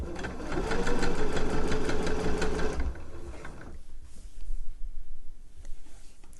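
A sewing machine runs steadily for about three seconds, stitching the seam allowance down to a dress bodice facing, then stops, leaving faint handling noises close by.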